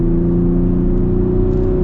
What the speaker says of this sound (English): It's got a cool sound with the trombone exhaust.